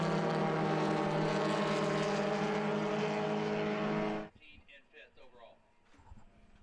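Vintage race cars including a Lotus, Bugeye Sprites and a Datsun racing on a road course, a loud, sustained multi-engine drone that cuts off abruptly after about four seconds, leaving quieter scattered noises and faint background sounds.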